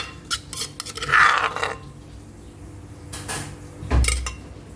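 Chillies, galangal and lemongrass being worked in a mortar, with scattered clinks, scrapes and a few dull knocks that come close and fairly loud, and no talk.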